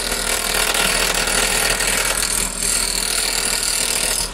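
A gouge cuts into a spinning wood blank on a wood lathe under light pressure, giving a steady, loud, hissing scrape with a constant low motor hum beneath and no voices.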